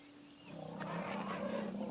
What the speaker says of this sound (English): They've bumped into lions.